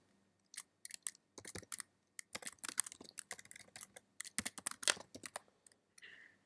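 Search keywords typed on a computer keyboard, close and crisp, with quick bursts of key clicks separated by short pauses and a few louder strokes.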